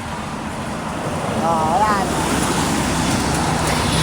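A truck passes along the Maharlika Highway toward Bicol, a broad rumble of roadway traffic that swells mid-stretch over steady road noise, with a voice speaking briefly over it.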